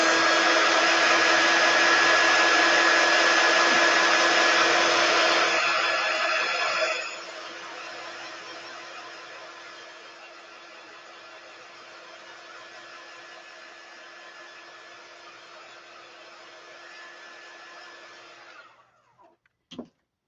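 A hair dryer blows steadily and loudly for several seconds while drying paste off a silk screen, then drops to a lower, softer setting and continues before clicking off at the end.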